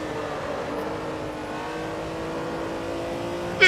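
A racing car engine, the Eagle T1G on Kyalami '67 in a racing video game, drones in a steady loud roar as it pulls hard under power. The note barely shifts and there is no talk.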